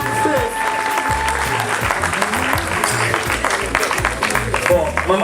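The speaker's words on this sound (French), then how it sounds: "Applaudissez pour elle là, applaudissez." A crowd at a lively gathering applauds for a woman, sustained clapping mixed with shouting voices and chatter that carries over the hands throughout.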